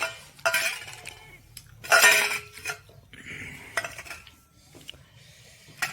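Dishes and cutlery clink and clatter as a plate is set down during a home meal, with several bright, close knocks and scrapes separated by quiet pauses.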